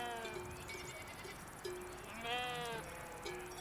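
Sheep in an alpine mountain pasture bleat repeatedly, with several overlapping, wavering calls at moderate distance and no voices.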